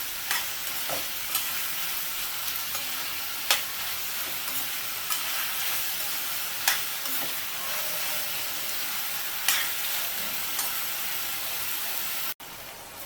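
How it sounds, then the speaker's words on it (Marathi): Mushrooms sauté in a pan for a masala dish, giving a steady loud sizzle and hiss broken by occasional scraping stirs against the pan, with no voices. "मशरूम शिजायला काय खूप जास्त वेळ नाही लागत पटकन होतात त्यामुळे हलकेशा आपल्याला पाच मिनटं परतून घ्यायचे आहेत"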